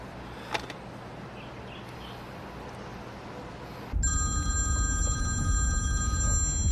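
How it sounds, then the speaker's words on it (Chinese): A telephone rings in a quiet indoor drama scene: faint room hiss for about four seconds, then a loud, steady electronic ring with sustained tonal pitches that runs to the end. "隋先生，我终于等到你电话了。"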